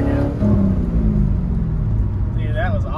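Low rumbling exhaust of a cheap used Corvette being driven hard and shifted clumsily, a steady loud drone with the pitch falling and rising through the gear change, heard from inside the car.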